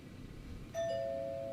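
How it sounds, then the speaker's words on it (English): A single two-tone doorbell chime rings out clearly and sustains, the second tone held, over a low background hum in a quiet room. "someone rang my doorbell?"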